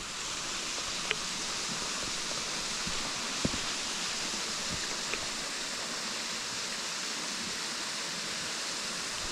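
Routin Linn waterfall roars in a steady, even broadband wash of falling water, close and unbroken, with a few faint clicks over the constant rush.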